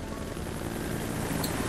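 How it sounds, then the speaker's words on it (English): Helicopter arriving in the video game Jurassic Park: The Game, a steady, loud rotor roar filling the brief moment with no voices over it. "The helicopter arrives."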